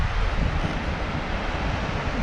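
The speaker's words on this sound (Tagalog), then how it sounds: "Medyo mahangin-hangin na." Steady sea wind roars and buffets the microphone on an inland sea in Qatar, a dense low rumble with no other sounds.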